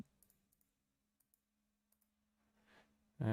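A handful of soft, sparse clicks from a computer mouse, faint and close in a quiet room, followed by a brief rustle and a louder thump at the end.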